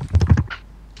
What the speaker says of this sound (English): I like how Aaron's typing, even though we can hear he's all like mashing of the buttons